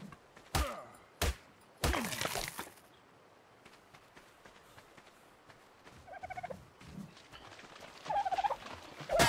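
Dodo calling in ARK: Survival Evolved, a run of short clucking, gobbling bird sounds in scattered bursts, loud at first and then softer, with sharp knocks between them.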